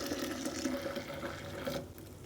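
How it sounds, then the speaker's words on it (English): Strong red raspberry leaf tea infusion, a double batch, is poured into a container, making a steady liquid splashing stream that fades toward the end. "let's pour it into our container so you can see what it looks like"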